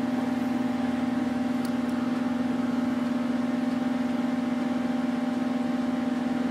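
A microwave oven's motor hums steadily with a strong low drone, labouring continuously with jewelry boxes inside, close by with no voices.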